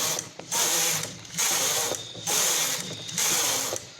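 A punch card knitting machine carriage is run across rows while a cardigan is knitted, giving four loud ratcheting mechanical passes, each about a second long, with brief quieter gaps between them and no talking.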